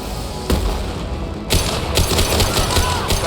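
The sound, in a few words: rifle gunfire in the video game Mass Effect 2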